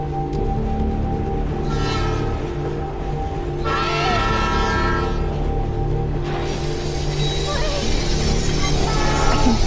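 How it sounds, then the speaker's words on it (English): An approaching train in the Life is Strange Remastered game, a steady low rumble of wheels on rails with horn-like tonal bands swelling and fading over a continuous mechanical drone, building louder toward the end. "The train's coming!"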